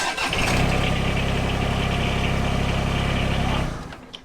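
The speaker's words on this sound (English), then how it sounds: "The tractor cranks up." A compact tractor's small engine cranks and catches, running at a loud, steady idle for a few seconds before shutting off abruptly.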